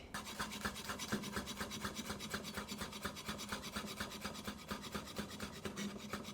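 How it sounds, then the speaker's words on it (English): A knife finely chopping garlic on a board in quick, even, scraping taps that repeat steadily, close and fairly quiet, with no voices. "Finely chop your garlic."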